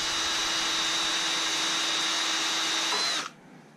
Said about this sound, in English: then you run your drill, and that wire will start straightening out